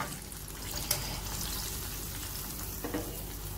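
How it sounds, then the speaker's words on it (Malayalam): Chicken legs deep-fry in hot oil for Korean fried chicken, a dense continuous sizzle and crackle close up, with a couple of brief clinks or stirs breaking through. "ബാക്കിയുള്ള ചിക്കൻ ലെഗ്സ് നമുക്ക് ഇതുപോലെ ഫ്രൈ ചെയ്തെടുക്കാം"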